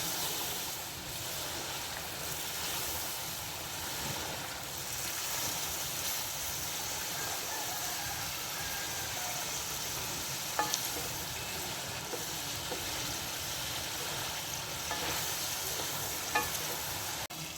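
Chicken karahi fries over high heat, a dense, steady sizzle and crackle held close for the whole stretch, with occasional faint clicks and no talking.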